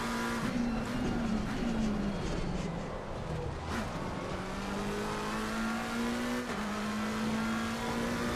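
Race car engine droning steadily with rising and falling pitch through gear changes, plus faint tyre noise, in the racing video game Assetto Corsa Competizione during an out lap; continuous and loud with no talking.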